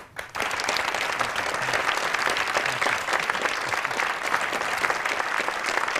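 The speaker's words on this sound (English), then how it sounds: "why don't we take a minute to give John Connolly and Marty Walsh a hand" A studio audience at a Boston mayoral debate breaks into sustained applause for the two candidates, dense and even clapping that begins abruptly after a brief quiet moment and continues unbroken.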